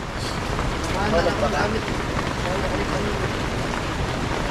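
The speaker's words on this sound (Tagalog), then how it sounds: "Masarap na ulan, oh." Rain falls steadily outdoors, a continuous soft patter and hiss of drops on surfaces, moderately loud, with people talking at times over it.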